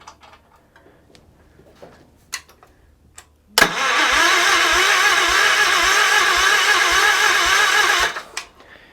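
A small Wheel Horse garden tractor engine cranks with a few clicks, then catches and runs at a steady, loud roar for several seconds before cutting off.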